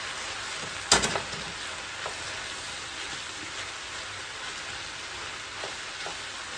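Cooked white long-grain rice being stirred into a cabbage casserole, a soft continuous wet shuffling with one sharp knock early on and a few faint scrapes after.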